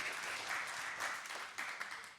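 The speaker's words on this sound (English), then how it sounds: "Give him a round of applause." Audience applause at a seminar talk, a brief burst of dense clapping from a room of people, steady and moderately loud throughout.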